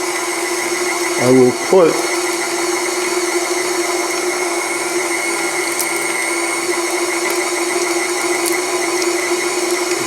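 An electric meat grinder runs steadily, grinding pork for sausage with a constant motor whine and hum, briefly interrupted near the start by a short voice.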